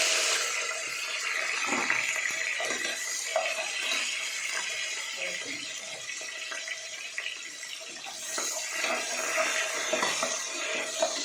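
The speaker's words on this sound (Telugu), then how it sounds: "నూనె వేడెక్కిపోయింది, ఆనియన్ వేసుకున్నాము" Onions fry in hot oil with a busy, uneven hiss and crackle, mixed with scraping stirring sounds and watery bubbling, close and fairly loud throughout with no talking.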